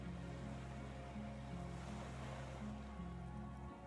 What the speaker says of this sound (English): A silent hiss, sea air moving through the needles of a pine tree.